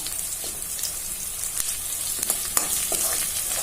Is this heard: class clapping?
no